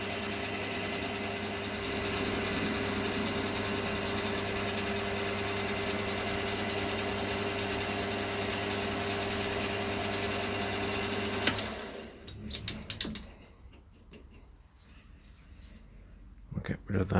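A Myford ML7 lathe turns at about 600 RPM while facing off a workpiece, giving a steady, close mechanical hum with a faint whine for about eleven seconds. It then stops abruptly, leaving scattered light clatter.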